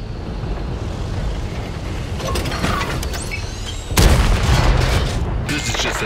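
A tank cannon fires in the video game World of Tanks: a heavy, close boom hits suddenly, then rumbles over a steady engine drone, with lighter mechanical clatter just before it.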